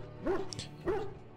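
A dog in the Dragon Age Origins video game gives two close, moderately loud barks about half a second apart, with a soft whimpering tone and a faint background hum.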